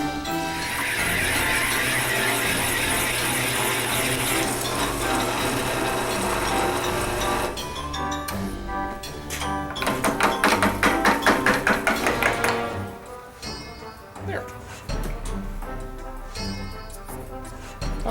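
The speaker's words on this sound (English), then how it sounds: "I'm going to flip the cutter around so it cuts this part first" A stone-cutting machine grinds into a carved stone statue of Bill Cipher, a loud continuous whine for several seconds that turns into a rapid rattling chatter midway, then trails off into quieter scattered bursts.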